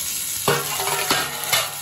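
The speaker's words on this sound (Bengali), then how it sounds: "আমার এখানে হলুদ ছাড়া কাঁকরোল আর কাঁচকলা ভাজা হচ্ছে" Teasel gourd and green banana pieces fry in oil without turmeric, a constant near sizzle punctuated by three distinct clanks of a spatula stirring against the pan.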